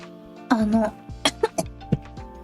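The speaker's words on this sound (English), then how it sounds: "I don't really know why my coughs aren't going away." A person with a lingering cough coughs close by, one drawn-out cough followed by several short sharp coughs in quick succession.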